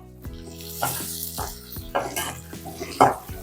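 Onion masala fries in a pan for egg masala, giving a close sizzle broken by repeated scraping and clinking strokes of a spatula against the pan, with a faint voice underneath.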